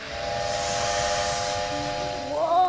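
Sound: steam locomotive whistle from a cartoon train

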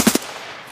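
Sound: MP7 submachine gun firing in Escape from Tarkov video game

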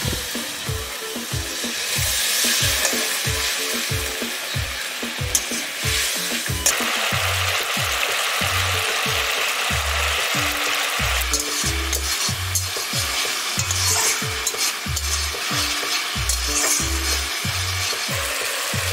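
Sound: ginger-garlic paste and spices sizzling in pan with water

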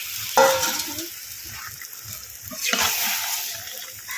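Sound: chicken meat being stir-fried in a pan

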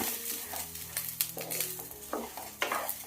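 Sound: ration rice being roasted and stirred in a pan

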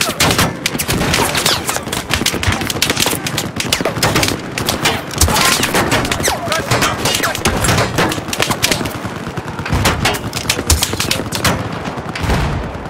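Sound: gunfire shooting in the video game Battlefield 4

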